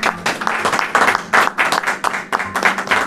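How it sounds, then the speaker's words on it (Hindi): Applause from a church congregation during a Bible sermon, a moderately loud, uneven burst of clapping that surges and dips in waves throughout, with no talk over it. "तालियां हो जाए।"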